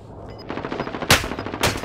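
Rapid automatic gunfire from a multiplayer shooter game, a fast close burst of shots with two louder, sharper blasts near the end and no voices.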